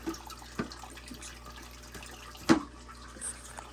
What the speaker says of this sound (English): Even this tank needs a little bit of water too.